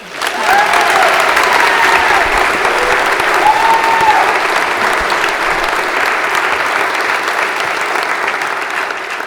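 Steady, sustained applause from a large audience at a high school senior awards ceremony, dense and even throughout with no talk over it.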